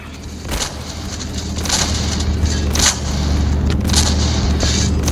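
Loud explosions and gunfire in the Roblox game DarkDivers, a giant-worm battle in a desert, burst repeatedly over a dense, rumbling background, several sharp blasts in quick succession.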